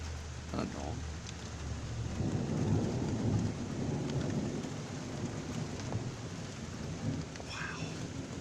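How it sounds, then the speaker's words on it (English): Heavy rain pours steadily through a severe thunderstorm, with a deep rumble of thunder swelling in the middle and lingering, all close and loud, while a voice briefly exclaims. "It's raining hard again."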